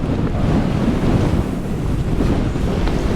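Strong gusting wind buffets the microphone while camping on an exposed fell, a continuous loud roar and rush with no pauses.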